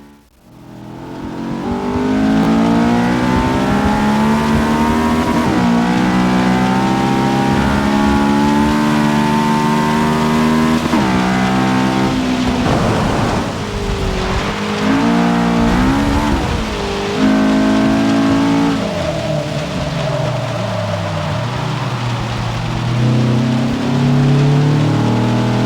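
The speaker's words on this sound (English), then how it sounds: "let's go ahead and hear how this VTAC sounds." A VTEC car engine in the Forza Motorsport 6 racing game revs hard and climbs through rising pitch sweeps, loud and sustained, with gear changes and repeated pulls over about twenty-five seconds.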